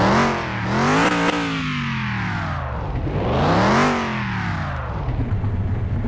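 A 1962 AC Cobra engine in Car Mechanic Simulator 2021 revs up twice in long swelling rises and falls, a loud, rough, rumbling note that settles back to idle between revs.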